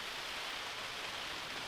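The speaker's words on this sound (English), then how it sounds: "the rain is coming" Rain falling outdoors during a car repair, a steady even hiss of drops with no breaks, moderately soft and unbroken, no voices.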